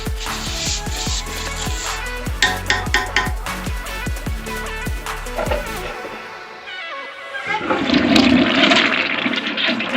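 A toilet flushes after a bleach cleaning, a loud close rush of swirling water with gurgles and a rising refill hiss, running steadily for the whole stretch with no talking.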